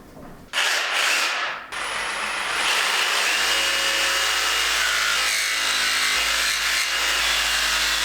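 A power saw rips through wood for a ceiling renovation, a quiet start before the blade bites and then a loud, sustained, close cutting roar with a slight dip partway before it continues steadily to the end.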